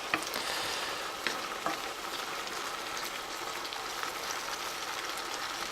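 Onions frying on high heat in a pan, a steady loud sizzle with crackling pops and occasional stirring clicks, no talking.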